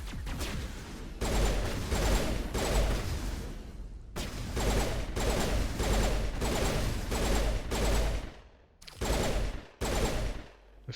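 Pistol gunfire in Mass Effect during a fight with geth on Feros, with loud, rapid bursts of shots in quick succession, broken by brief pauses, close and alone.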